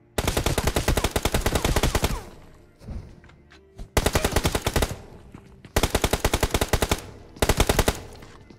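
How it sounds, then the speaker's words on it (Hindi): Rapid automatic M4 rifle fire in the PUBG video game comes in three long, loud bursts of close, evenly spaced shots, with short gaps between them. "मैंने सोचा पीछे वाली बिल्डिंग में कोई M4 तो चला रहा है"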